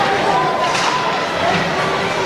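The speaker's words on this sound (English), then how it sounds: "Big crowd, as you can hear already tonight for the home opener." Crowd noise fills a rink at a varsity high school hockey home opener, a steady murmur of chatter and shouts beneath a commentator's talk.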